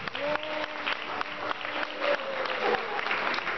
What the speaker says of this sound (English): give yourselves a round of applause for coming out today to learn about the value of education